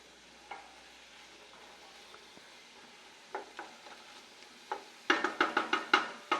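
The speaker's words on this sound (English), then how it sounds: "the peppers and onions have been sauteing for about 4 minutes" Peppers and onions saute in a pan with a soft, faint sizzle and scattered stirring scrapes, turning into a quick run of louder stirring strokes near the end.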